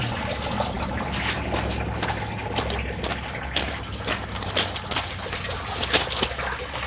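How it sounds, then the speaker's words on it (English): Water gushes and splashes out of an outer yard drain after rain, a steady close rush with small irregular spatters and no voices. "The outer yard drain there is actually producing the most water."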